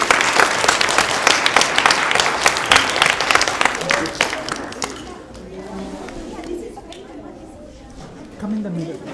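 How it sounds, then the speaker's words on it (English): A crowd at an annual community event applauds after a dance performance, dense clapping for about five seconds that fades into murmuring chatter and a voice. "Can we all please give Mahi another round of applause for that wonderful dance performance?"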